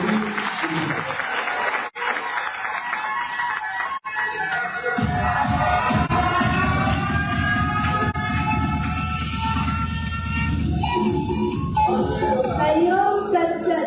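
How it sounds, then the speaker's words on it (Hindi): A conference audience on education in Pakistan breaks into sustained, dense applause for a speaker, with a roaring, crowd-filled wash of clapping and a low musical or amplified tone entering partway through. "भरपूर तालियों में हमारी बेटी"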